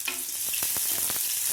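Curry leaves and small shallots frying in hot oil in a pan, with a steady close sizzle and a few short scraping stirs running through it.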